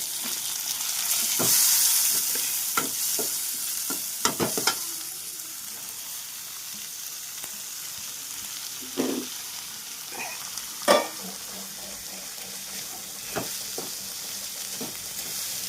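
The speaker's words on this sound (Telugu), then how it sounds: "ఎర్రగా అయిన తర్వాత ఈ ఉలువలు వేసి ఇట్లా కలుపుకోవాలి" Horse gram stirring and frying in a pan for gugillu, a steady close sizzle with repeated scraping stir strokes and a few louder clatters from a spoon against the pan.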